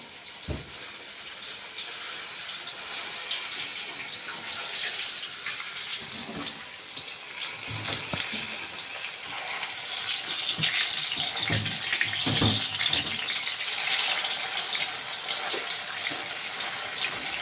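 Vegetable bhaji frying in hot oil: a steady, hissing sizzle fills the whole stretch, close and fairly even, with occasional small pops and clinks rising above the continuous wash.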